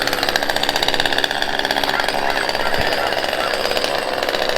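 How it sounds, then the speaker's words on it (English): A tree trimmer runs steadily outdoors in a Palm Springs neighborhood, a continuous buzzing engine drone with a dense, rattling texture, fairly loud and unbroken throughout. "A tree trimmer."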